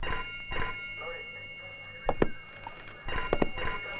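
A telephone rings at a police station in short bursts at the start and end, separated by a quieter gap with thuds and faint voices.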